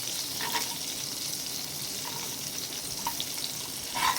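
Garlic sizzling in melted butter in a pan while cooking pasta, a steady soft hissing fry with a few faint crackles, fairly quiet and close, no talking.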